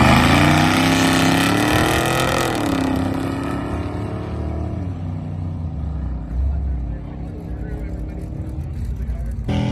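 A Ford Fox body car with a cam, exhaust and automatic transmission makes a drag strip pass, its engine roaring loud and close, then fading as it pulls away, with someone talking over it.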